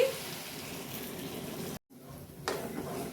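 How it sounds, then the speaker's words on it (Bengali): Water is poured into a cooking pot of dal as a steady, close rushing pour with a faint sizzle, briefly cut off partway and then resuming. "আমি একটু জল দিয়ে দিচ্ছি"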